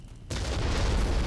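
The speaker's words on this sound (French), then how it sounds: "Ah, deuxième explosion." A bomb explodes in Far Cry 3, a sudden loud boom breaking out of near silence and rolling on as a heavy, sustained rumble.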